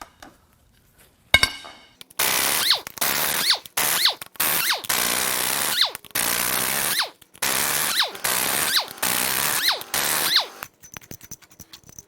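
A power tool, likely an impact wrench, hammers at tight top bolts on a Ford 6.4L Powerstroke diesel core engine during teardown, with loud bursts of several seconds broken by short pauses and metallic clanks.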